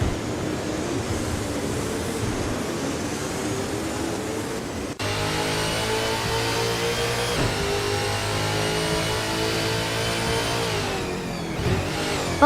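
Racing car engines in a video game race, including a 2027 Holden Commodore, drone and rev steadily, with a sudden change in engine pitch partway through as the cars continue at speed.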